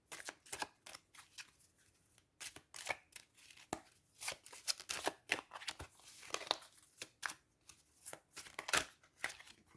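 An oracle card deck shuffled for a reading: quiet, close riffling and flicking of cards in irregular bursts across the whole stretch, with no talking.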